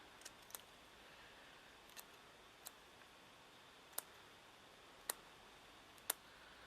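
Faint, sharp snips of small scissors spaced a second or so apart over a quiet background, no speech.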